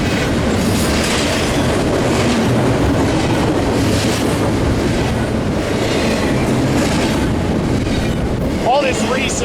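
Train rolling past on the rails at Fullerton, a loud, close, continuous rumble with rhythmic clickety-clack of the wheels and a brief squeal near the end, with a voice faintly under the noise.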